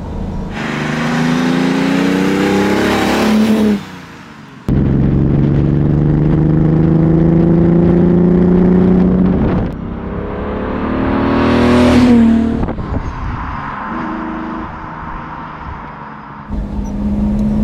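A classic 1967 Lamborghini 400 GT with a V12 engine accelerates hard from inside the car, its loud engine note rising through several gears with brief dips at each shift, and no talking.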